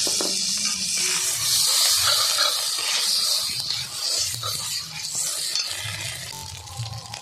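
Ginger, garlic, cumin and coriander paste with turmeric frying in a pan in a village kitchen, giving a steady loud sizzle and hiss with intermittent stirring scrapes throughout.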